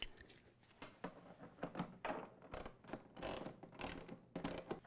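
A ratchet wrench tightens bolts while a DR leaf and lawn vacuum is assembled, with several close bursts of rapid clicking separated by short pauses and no talking.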